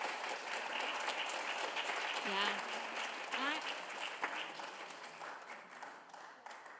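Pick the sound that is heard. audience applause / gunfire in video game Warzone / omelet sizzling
audience applause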